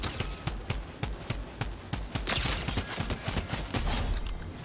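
The mythic drum gun in Fortnite fires in rapid automatic bursts, a dense, loud rattle of shots with brief gaps between volleys.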